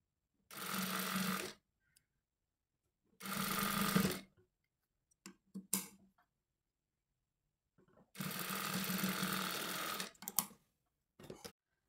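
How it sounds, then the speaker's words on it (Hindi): A sewing machine stitches the side fitting seam of a kurta in three separate bursts of about a second each, with soft clicks and handling noises in the quiet gaps between them. "अब हमने लगानी है फिटिंग की सिलाई।"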